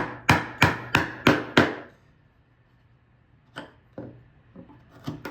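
A chisel is driven into wood to cut a mortise, five sharp mallet blows in quick even succession, then quieter scattered taps and scraping as the chisel works the cut, close and without talk.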